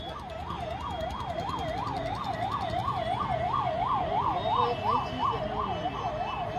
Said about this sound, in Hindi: सामने एम्बुलेंस फंस गई है